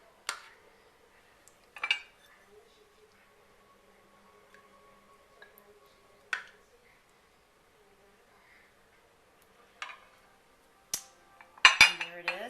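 Wild rice and cheddar cheese soup ladled into a bowl: sparse, quiet clinks and scrapes of utensil against pot and bowl spread over a near-silent room, ending in a quick cluster of sharper clinks.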